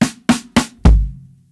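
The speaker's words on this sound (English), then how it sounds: "if we were to substitute kick 16th notes for a kick" Drum kit groove where kick drum sixteenth notes are substituted in: three quick, sharp hits followed by a heavier, booming final stroke that rings out, close and loud with no talking.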